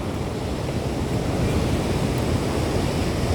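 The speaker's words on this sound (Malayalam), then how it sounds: "കടൽ അതിക്രൂരനായി കടന്ന് പിടച്ചുകൊണ്ടിരിക്കുകയാണ്" Sea surf churning continuously at Kappil beach, where the sea meets a backwater, a loud broadband roar of rough waves with wind noise and no let-up over the few seconds.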